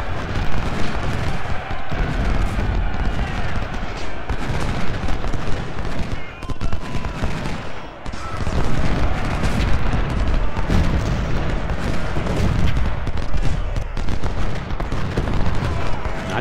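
Constant loud volleys of musket and artillery fire from a Civil War battle at Antietam in Ultimate General: Civil War, with dense crackling and booming that goes on without a break and a voice talking over it.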